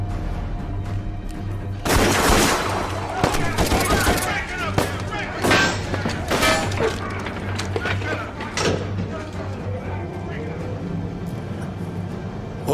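Bursts of gunfire crack out in a horror film scene, loud volleys clustered in the first half and thinning toward the end, mixed with clatter and a low steady hum.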